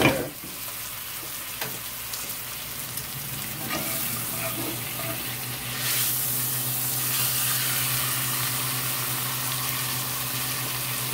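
Pork chops searing in a pan with butter, a steady close sizzle that swells louder partway through as the fat hits, continuing without any talk.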